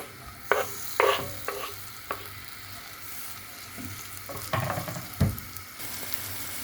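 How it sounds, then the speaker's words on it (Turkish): Chopped onions sauté in oil in a frying pan, a steady close sizzle broken by several distinct stirring scrapes and knocks of the utensil against the pan. "Soğanlarımızı öncelikle soteliyoruz"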